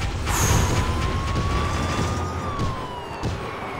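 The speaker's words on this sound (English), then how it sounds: "Good thing I got the sirens at the right time." A police siren in the racing video game Beach Buggy Racing 2 wails loudly, its pitch sweeping up and down over a rumbling engine, with no talking.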